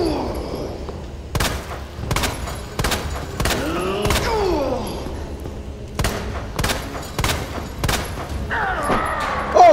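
Gunfire in the Resident Evil 2 Remake boss fight against Dr. Birkin: a string of loud, sharp shots spaced about a second apart, mixed with heavy thuds and creature roars, with no talk.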